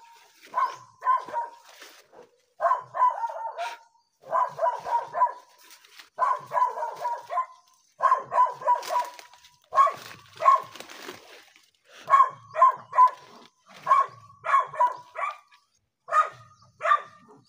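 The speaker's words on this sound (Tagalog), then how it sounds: "May mga aso." Several dogs bark repeatedly at a gated property in rapid bursts of clustered barks separated by short pauses, fairly close and loud, continuing throughout with no talk heard.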